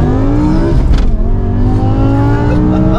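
A sports car engine revs loudly and close, its steady roar rising in pitch, dipping briefly, then climbing again as it accelerates.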